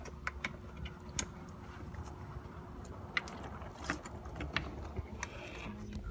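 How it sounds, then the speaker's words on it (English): A plastic electrical connector is pushed onto the coolant sensor of a BMW E46 M3 with the S54 engine, giving a few small, sharp clicks and scrapes close by over low background noise. "Now you can plug that sensor back in."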